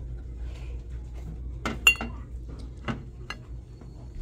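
Glass Oktoberfest beer mugs clink together as they are handled on a thrift store shelf, a few sharp chinks and knocks standing out over low store background noise.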